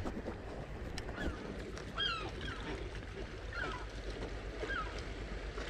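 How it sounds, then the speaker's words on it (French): Cormorants calling near a nest on a rocky seashore during shore fishing, giving a few short harsh croaking calls spread through the clip over steady surf and wind noise. "Il y a les cormorans là, en ce moment,"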